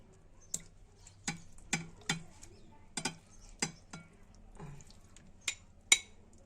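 Pieces of meat are set down and turned in a marinade, heard as roughly ten sharp, quiet knocks and clicks spaced unevenly against a near-silent kitchen background.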